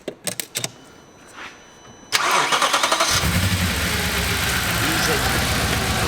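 Crashed, damaged Audi B7 RS4 Avant engine starting: a few clicks and a pause, then the starter cranks and the V8 catches with a loud burst, settling into a steady, rumbling idle close by.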